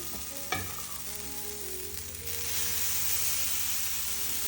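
Dosa batter sizzling on a hot pan without ghee, a soft continuous frying hiss that swells a little louder partway through, with a brief clatter near the start.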